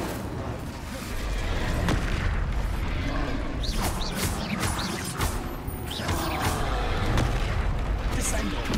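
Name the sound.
spell explosions from Confringo and Incendio spells, Hogwarts Legacy video game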